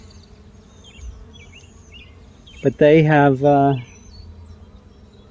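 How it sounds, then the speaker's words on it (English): Bees buzz faintly and steadily during the 2024 solar eclipse, with faint bird chirps in the background and someone briefly speaking close by. "Bees are still coming."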